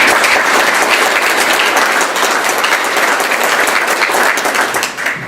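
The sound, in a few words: audience applause for the police service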